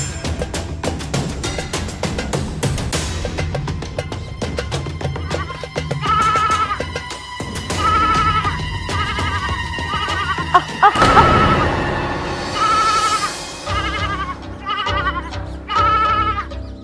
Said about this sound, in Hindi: भेड़ें चरा रही हूँ।